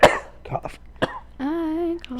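Short coughs and throat sounds from a person during a casual podcast chat, a few quick bursts followed by a brief voiced sound.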